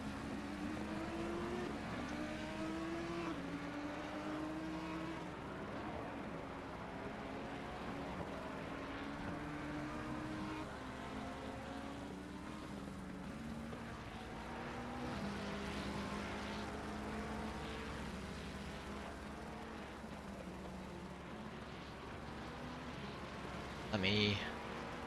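Race cars lapping Monza in Assetto Corsa Competizione, with engine notes rising and falling through gear changes in a continuous, fairly faint blend of several cars.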